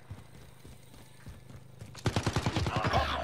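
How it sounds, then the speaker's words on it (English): Rapid burst of AK rifle fire in Call of Duty Warzone, about eight sharp, evenly spaced shots landing on an enemy, loud and close after a quieter stretch of distant combat ambience. "I hit him four times with an AK in the head"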